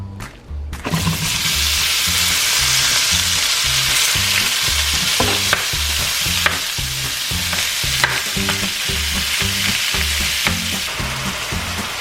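Ground beef sizzles in olive oil in a hot pan, a steady loud frying hiss with rhythmic stirring scrapes repeating throughout and no talking.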